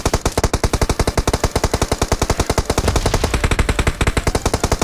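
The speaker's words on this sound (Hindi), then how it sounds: "क्योंकि कंटिन्यूसली वो फायर करे जा रहा है" Sustained automatic rifle fire in a PUBG match, a loud rapid burst of evenly spaced shots that pounds on without pause, up close and dominating, with a slight change in tone partway through.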